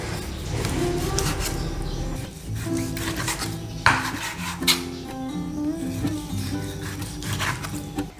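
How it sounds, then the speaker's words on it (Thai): A knife slices raw pork across the grain in a home kitchen, with repeated scraping and tapping cuts against a board in an irregular rhythm, close and fairly quiet. "หมูนี่ให้เราหั่นตามขวางนะคะ"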